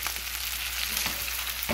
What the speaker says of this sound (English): stick all these fiddleheads right on top of there. It's all going to cook down nicely together.